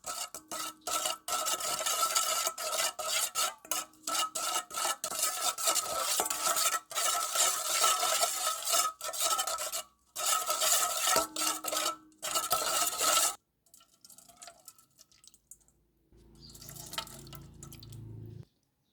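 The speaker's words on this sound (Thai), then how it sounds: "คนส่วนผสมให้เข้ากันจ้ะ" A Thai fermented fish sauce salad with pork sausage is stirred and tossed in a bowl, making wet, rhythmic scraping and squelching strokes for several seconds, then a pause followed by a few quieter clinks.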